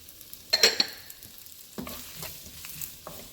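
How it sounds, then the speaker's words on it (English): Chorizo and potatoes sautéing in a pan over a small burner turned up high, a soft close sizzle with a few sharp stirring scrapes and pops. "And I'm going to saute these for about 5 minutes."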